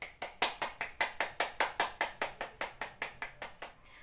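A classroom group applauds a group of students, giving about seventeen evenly spaced, crisp claps that stay steady and fade slightly at the end, with no talking.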